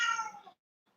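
A single drawn-out cat meow, close and clear, fades after about half a second, leaving near silence. The cat is still unhappy in the middle of a yoga session.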